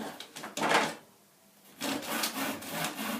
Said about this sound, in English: the wood saw cuts in both the forward and the backward direction